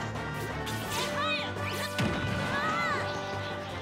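Up smash attacks from Kirby and Daisy against Lucina and Ness in a Super Smash Bros tournament match land as sharp, loud smacking hits, a couple of close impacts over busy game music and effects, with commentators faintly talking.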